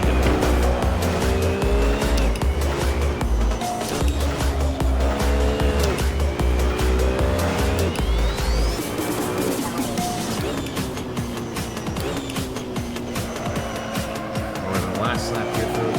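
A race car in Assetto Corsa on PC drives hard with a loud, continuous engine roar that rises and falls through gear changes, with tire squeal and no talk over it.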